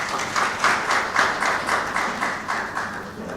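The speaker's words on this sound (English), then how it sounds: "thank you very much for that round of applause for acknowledging their presence" An audience at a Nigerian stakeholders' dialogue on food security claps in a steady rhythmic beat for the Niger State Commissioner of Agriculture, moderately loud and sustained, with no talking.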